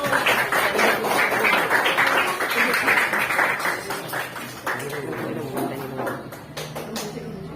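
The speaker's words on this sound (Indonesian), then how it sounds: "Tepuk tangan untuk kelompok 1." A classroom of students claps for a presenting group, a loud dense burst of applause that thins out into scattered claps and murmurs toward the end.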